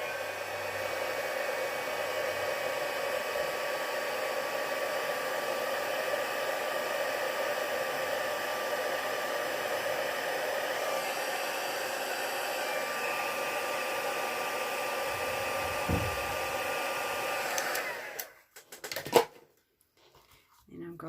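A heat tool blows steadily on a handmade card for heat-setting embossing, a continuous loud whirring hiss that runs for about eighteen seconds before cutting off, followed by brief handling noises.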